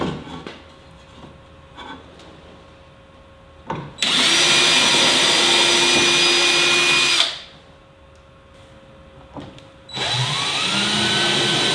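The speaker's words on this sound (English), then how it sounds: "So what I'm going to do is pre-drill the holes." A power drill pre-drills screw holes in cedar wood for a truck camper cabin extension, running in two loud sustained bursts of a few seconds each with a quiet pause between them and faint handling sounds before.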